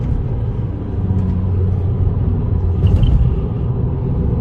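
A 2015 VW Jetta 1.6 TDI at full throttle in city traffic, giving a steady, loud low engine rumble from inside the car that stays constant with no break throughout.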